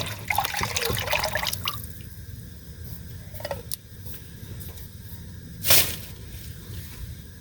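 Liquid splashes and trickles into a pot in a brief burst early on, then quieter kitchen clatter and a sharp splash near the end.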